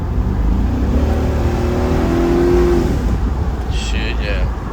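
A 2004 Chevrolet Silverado pickup's engine revving up, a loud, close, rising growl with a tonal sweep in the middle, and a voice talking over it toward the end.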